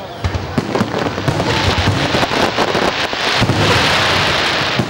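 A large fireworks salute ends combined Builder's Day, City Day and fish-soup festival celebrations in Naberezhnye Chelny, with dense, loud crackling bursts and booms rolling continuously and swelling toward the end.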